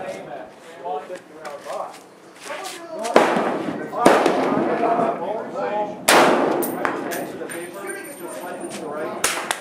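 Rifle shots at an outdoor shooting range in Arizona: several sharp, loud muzzle blasts spaced a second or more apart, each followed by a short ringing decay, with people talking between the shots.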